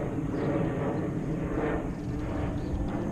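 An aeroplane passing overhead, a steady broad engine rumble and hiss that holds level throughout, moderately loud and distant, with no voices.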